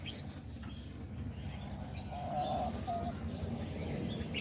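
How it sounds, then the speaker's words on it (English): Diamond doves coo faintly in a bird enclosure shared with budgies, lovebirds and cockatiels. A few soft calls rise over a low steady background hum, with no talking. "there's all the diamond doves right here"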